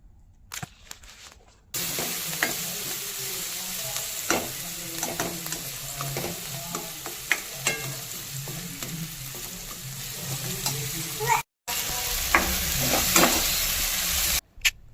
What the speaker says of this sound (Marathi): मिक्स करून त्याच्यावर थोडंसं पाणी टाकून आपण ह्या मिरच्यांना थोडंसं पहिले शिजून घेऊयात